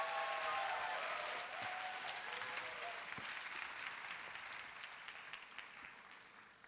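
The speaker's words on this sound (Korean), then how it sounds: "우리 전도사님 나오실 때 우리 뜨거운 박수로 환영을 해주시고" A church congregation at a Sunday youth worship service gives warm, loud applause to welcome a preacher, steady clapping from a large room that fades gradually and continues throughout.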